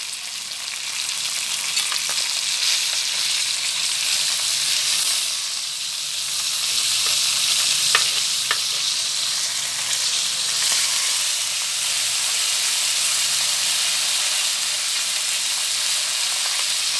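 Food fries in hot pork lard in a pan, a steady, bright sizzle and crackle that stays close and even throughout, with a few sharper pops and no talk.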